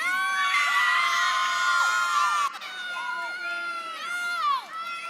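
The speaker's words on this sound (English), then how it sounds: "In big part thanks to this loud cheering from her team." A swim team cheers loudly at a national swimming open finals, high excited shouts and whoops rising and falling in a continuous crowd roar with brief surges near the end.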